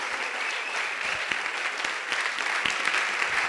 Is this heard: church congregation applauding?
yes